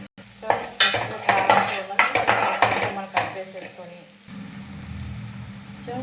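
Onions and green chillies frying in a pan for a curry, with repeated close spoon scrapes and clatters over a sizzle that settles into a quieter steady fry toward the end.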